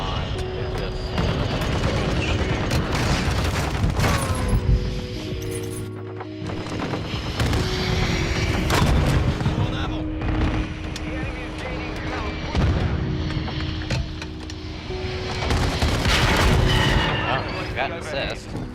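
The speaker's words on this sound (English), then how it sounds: "It's a little bit weaker than the other launchers. So it's gonna take a few more rockets." Rocket launcher fire and explosions from the video game Call of Duty MWII, a dense loud stream of booms and gunfire with game sound layered throughout, under a speaking voice.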